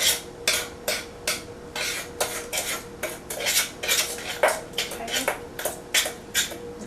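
A metal utensil scrapes and clinks against a bowl while mixing blondie brownie batter with an egg until smooth, a repeated rhythmic clatter of strokes, close and fairly loud, with no voices.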